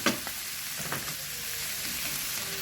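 Chicken pieces sizzling in a pan as they render their own fat, a close, continuous crackle with a few stirring scrapes near the start.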